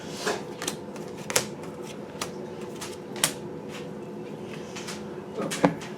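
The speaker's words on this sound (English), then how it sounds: "There was a card that fell out while I was shuffling" Tarot cards are shuffled by hand, giving soft repeated riffling and sharp clicking snaps at irregular intervals, close and moderately quiet.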